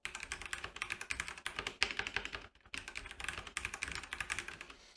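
Rapid, steady typing on a mechanical keyboard fitted with CableMod ABS plastic laser-etched keycaps, dense clacky keystrokes close up with a brief pause midway and no voices.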